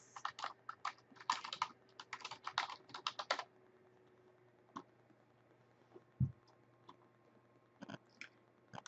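Rapid bursts of typing on a computer keyboard while an email address is entered into a client portal login, clattering for about three seconds, then a few isolated key clicks in a quiet room.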